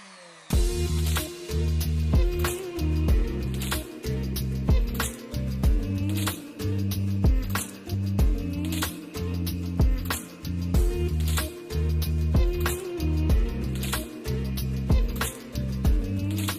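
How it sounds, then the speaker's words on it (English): A router riding on a wooden jig planes a slab of colored pencils set in epoxy: a loud, steady motor whine with a rhythmic series of cutting passes roughly every second, each rising and dipping as the bit moves across. "So the router just rides on these 2 pieces of wood, and I can move it around to cover the entire slab."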